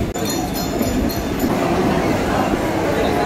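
A train bound for Tarakeswar rumbles steadily along the rails, a loud continuous close roar of wheels and carriage noise with faint clatter.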